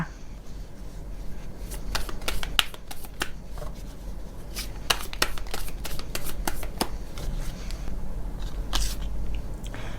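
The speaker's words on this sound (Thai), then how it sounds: "ต่อไปแม่หมอเปิดไพ่ Oracle เสริมให้นะคะ" Oracle cards shuffled for a tarot reading, a run of crisp riffling slaps and flicks at irregular intervals, close by over a low steady hum.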